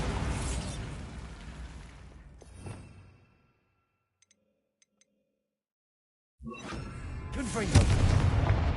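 Bombarda spell explosion in Hogwarts Legacy, a loud burst of booming noise that decays with a sharp crack near three seconds, then near silence with faint ticks, before another loud explosive burst and rumbling debris returns and swells toward the end.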